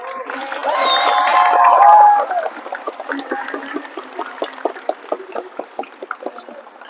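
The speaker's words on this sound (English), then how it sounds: "Can we get a little round of applause for the amazing planner?" A convention audience at a My Hero Academia Q&A panel breaks into scattered applause, sparse sharp claps following a few seconds of voices and a brief tone.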